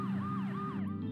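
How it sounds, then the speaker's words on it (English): An ambulance siren wails in rising and falling sweeps over a low engine rumble, brief and fairly faint. "Ambulance."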